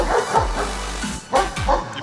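Dogs in kennel enclosures at a National Guard canine centre, barking and yipping loudly and close in quick repeated bursts.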